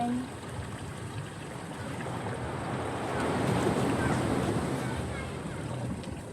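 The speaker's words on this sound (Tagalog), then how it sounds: "Ang lakas ng alon pa." Heavy sea waves wash and roar continuously close by, mixed with gusty wind buffeting the microphone.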